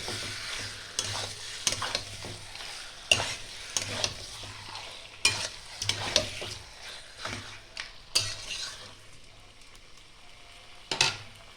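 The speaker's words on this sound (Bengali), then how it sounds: "চিকেনটা আমি একটু কষিয়ে নেব 2-3 মিনিট।" Chicken sautés in a pan under a low, steady sizzle, broken by repeated sharp scrapes and knocks of a spatula against the pan every second or two; no voices are heard.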